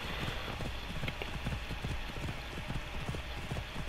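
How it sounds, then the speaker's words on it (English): Horse hooves clip-clop in the game Assassin's Creed Odyssey in a quick, even rhythm of close, clear hoofbeats over a steady background hiss. "A horse."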